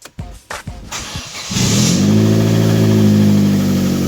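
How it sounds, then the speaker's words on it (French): A Corsa car engine cranks with a few stuttering bursts, then catches and settles into a loud, steady low rumble with a brief rev. "Xavier il va démarrer la Corsouf."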